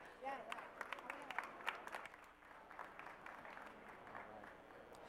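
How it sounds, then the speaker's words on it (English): Audience at a student case competition finals gives a round of applause, faint and somewhat distant, with scattered claps and crowd murmur throughout. "Let's give them a round of applause."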